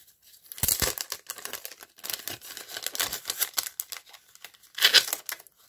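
Packaging of a clear stamp being opened up close, with crinkly plastic rustling and a few sharp tearing bursts scattered irregularly across a few seconds.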